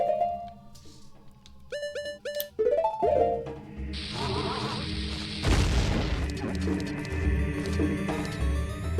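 A bomb blows open a spot in the game The Legend of Zelda: Ocarina of Time: a single loud boom after game chimes and melodic music, which carries on underneath afterwards.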